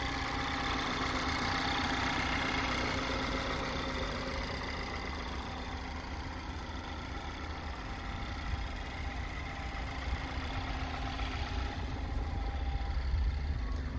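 A Mazda Miata RF Club ND2 engine idles with a steady, even hum and mild vibration, continuous and fairly close for the whole stretch, with no talking over it.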